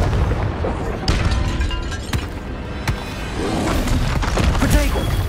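Spell blasts boom and crackle through a Hogwarts Legacy fight against a troll, several impacts hitting in quick succession over a dense, loud wash of game noise.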